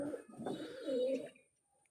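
Free-roaming domestic pigeons cooing outdoors, a single soft throaty coo rising and falling in the near distance, fairly quiet, with no talking.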